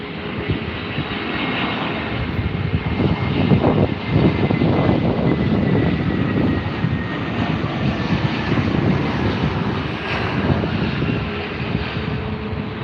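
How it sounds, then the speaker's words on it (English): An Aer Lingus airliner taking off at Heathrow, its jet engines roaring as a broad, steady, sustained rumble that holds at a loud, constant level throughout, with some wind buffeting the microphone. "It's Aer Lingus, ladies and gents."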